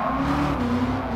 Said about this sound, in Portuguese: vamos ver o V8 Big Block em ação, o V8 norte-americano